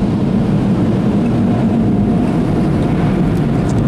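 Powerful car wash air blowers roar steadily while drying a Hummer H2, a loud continuous broadband rush of air filling the whole clip without letup.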